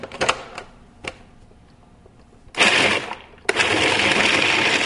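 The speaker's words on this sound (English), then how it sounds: "now we're going to turn the food processor on" A food processor grinds walnuts and bread, starting with a few sharp clatters and then roaring into two loud, steady whirring bursts with a short pause between them.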